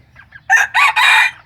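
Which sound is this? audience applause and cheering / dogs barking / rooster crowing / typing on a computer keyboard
rooster crowing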